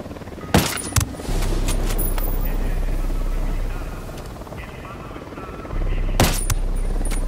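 A helicopter hovers nearby in Ghost Recon Wildlands, a steady low rotor drone that swells louder toward the end, punctuated by a few sharp gunshots.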